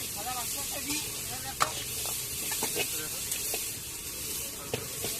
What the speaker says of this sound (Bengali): তেল দিয়ে তেলটা গরম হয়ে যেতে প্রথমে পেঁয়াজ, ক্যাপসিকাম দিয়ে দিলাম।